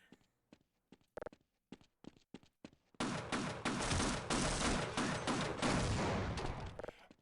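Sparse single shots and short bursts crack out one after another before a continuous loud stream of automatic fire takes over and runs to the end, all inside the shooter game Half-Life.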